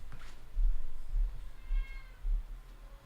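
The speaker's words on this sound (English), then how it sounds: "my cat wants out here" A domestic cat meows repeatedly to be let out, four or five close, fairly loud calls in an uneven rhythm with quiet room noise between them.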